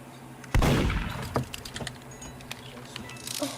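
A single sharp gunshot in the Roblox game Murder Mystery 2 bursts out loud and close, followed by a scatter of fainter clicks and small game sounds.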